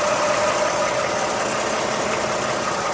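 A 2012 Toyota Highlander SE 4WD with the 3.5-liter V6 runs steadily, giving a loud, even engine drone and hum with a mid-pitched tone and no talking.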